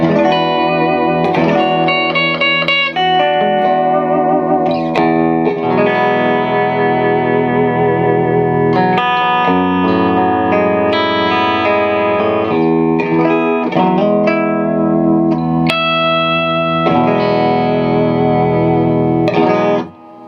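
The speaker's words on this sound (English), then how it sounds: "So here's the bridge pickup split." A PRS 58/15 Custom 24 electric guitar played through its split bridge pickup rings out in a continuous run of bright, slightly driven chords and notes with echo, loud and close, without talk.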